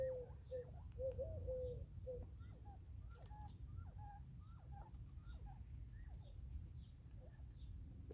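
Small birds in springtime chirp and coo in short, repeated calls that carry on steadily, moderately close, over a low background rumble.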